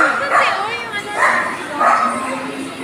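A dog barks three times in short, sharp bursts about a second apart, fairly close, with voices in the background.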